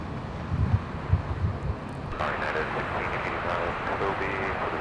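A jet airliner departs runway 24 left at LAX, its distant roar swelling abruptly into a steady broadband rumble with wind buffeting the microphone.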